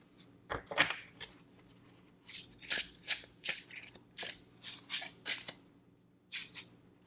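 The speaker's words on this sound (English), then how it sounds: "Let's get some more cards out." Tarot cards are shuffled and drawn by hand in a quiet room, a string of soft papery swishes and flicks at an uneven pace, close and moderately loud, with no talking.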